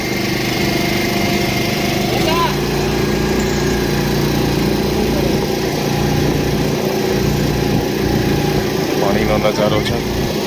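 Motor boat engine running steadily on a river at Omkareshwar, a loud continuous drone throughout with other noise mixed in on the water.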